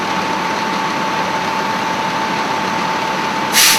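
A fire engine idles steadily nearby with a constant mechanical hum and a faint whine. A short burst of hiss comes near the end, and no one speaks.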